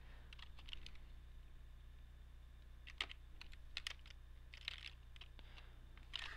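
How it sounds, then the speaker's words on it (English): Typing on a computer keyboard, with scattered light key clicks in short irregular bursts over a steady low hum, no voices. "let's say I'm gonna type in jigs"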